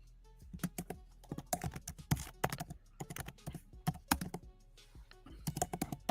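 Rapid clattering keystrokes on a computer keyboard come in irregular bursts and pauses, close and clear, with no talking over them.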